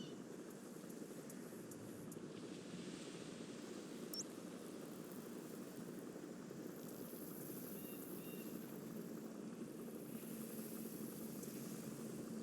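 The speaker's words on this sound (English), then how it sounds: "Okay, I can hear something. A helicopter. That's an enemy gunship." An enemy helicopter gunship in the video game Metal Gear Solid V, a faint, steady rotor drone that hums in the distance throughout with no talk over it.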